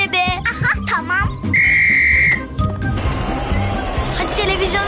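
A whistle blown to start a children's cartoon football match: one steady, loud, shrill blast lasting under a second, with cartoon voices talking before it and busy background noise after.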